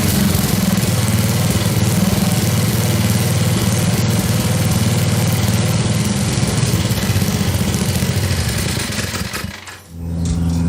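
Small engine fitted with an aftermarket carburetor running on choke, a loud, close, continuous buzzing drone that sputters and dips near the end, with no talking.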